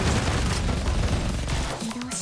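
Loud, dense machine gun fire in the video game Blue Archive: a continuous rattling barrage mixed with booming blasts, filling the whole moment before easing slightly at the end.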